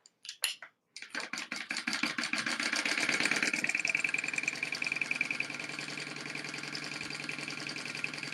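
A sewing machine stitches along the raw top edge of a Taylor Tote bag, starting with a few short stop-start bursts, then running into a fast, steady mechanical whir of rapid needle strokes, close by.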